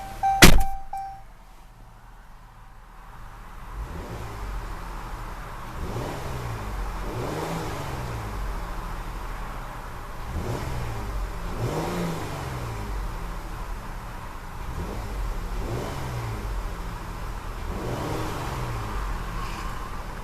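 2015 Jeep Grand Cherokee's 3.2-liter Pentastar V6 started with a sharp click, then idling and blipped through a series of about eight quick, even revs that rise and fall smoothly, heard close up with no talking.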